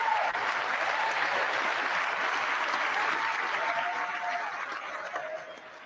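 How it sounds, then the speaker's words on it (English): Sustained applause fills a large chamber at the State of the Union, a dense steady wash of many hands clapping that thins slightly near the end. "You see how she's like clapping like this too?"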